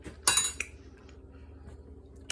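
A metal spoon clinks sharply against dishes as it is rinsed off, a brief cluster of bright cutlery taps followed by quieter faint handling sounds in a kitchen.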